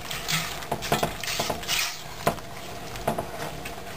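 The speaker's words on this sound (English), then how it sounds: "Stir this about." A utensil stirs veal with minced garlic in a pan, a series of close scraping taps and clinks against the metal in an uneven rhythm over a faint sizzle, with no talking.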